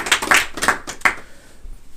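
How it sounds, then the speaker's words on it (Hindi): A church congregation at a Sunday service in Uttar Pradesh claps hands, a short run of sharp, loud claps that thins out after about a second. "यीशु के लिए जोर से ताली लगा"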